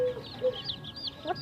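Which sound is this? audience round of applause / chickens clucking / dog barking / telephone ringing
chickens clucking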